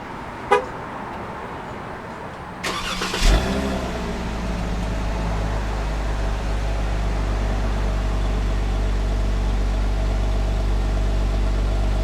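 A 2016 Jeep Wrangler Unlimited is remote started with a brief horn chirp, then the engine cranks and fires. It settles into a steady, low, close idle that continues without talk.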